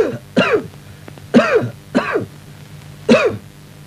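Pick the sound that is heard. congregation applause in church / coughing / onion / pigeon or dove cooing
coughing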